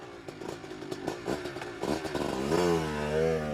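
A motorcycle ridden at night on a dark rural road in autumn in central California, its engine rising into a steady revving drone with rattling and clattering at first, close and moderately loud, with no speech.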